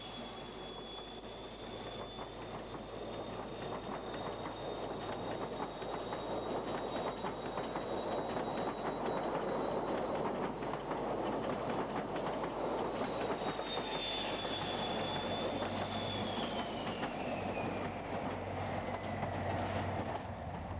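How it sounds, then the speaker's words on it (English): An Inter-City 125 high-speed diesel train runs along a rail line off the East Coast Main Line near Cambridge, giving a steady loud rumble of engines and wheels with high whining and squealing tones sliding downward, continuous and close throughout. "This train left the East Coast Main Line at Peterborough and will run via Cambridge before"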